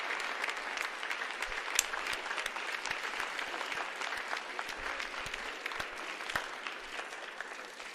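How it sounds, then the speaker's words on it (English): Audience applause after a presidential debate, sustained dense clapping from a large crowd that continues steadily for several seconds without speech. "Round of applause."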